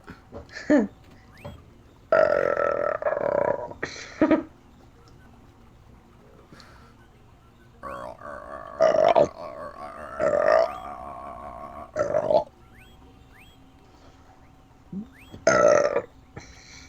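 Shrek's distinctive video game burp sounds repeatedly, around seven loud, drawn-out belches in separate bursts with quiet gaps between them, heard alone without talk.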